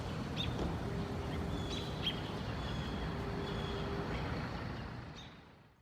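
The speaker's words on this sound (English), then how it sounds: "the most dominant sound in New York would ever be that of birds singing?" Faint, scattered bird chirps over a steady low hum of distant city noise in a quiet New York City in 2020, the background fading out at the end.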